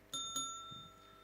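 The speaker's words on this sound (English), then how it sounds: "the bell will ring twice" A parliament sitting timer bell rings twice in quick succession at a student parliament session, two bright metallic dings with a clear ringing tail, fairly close and alone.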